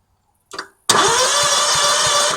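Gravely Pro-Turn 152 commercial mower engine cranking over with a finger held in the spark plug hole: a brief sound, a short pause, then a loud steady churning with a fast rhythmic pulse that continues to the end.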